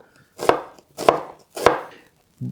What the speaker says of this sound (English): So we're going to cut the onions, 2 onions.